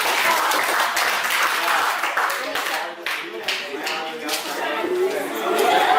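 Students applaud in a school classroom, a dense burst of hand clapping that swells, dips briefly and swells again, with chatter and voices mixed in.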